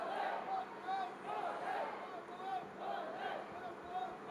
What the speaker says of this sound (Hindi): कितनी सारी भीड़ है